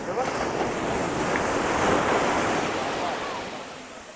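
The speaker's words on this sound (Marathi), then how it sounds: "लय डेंजर लाट असते." Sea waves breaking on a Konkan beach, a continuous broad roar of surf with wind noise across the microphone, swelling in the middle and easing toward the end.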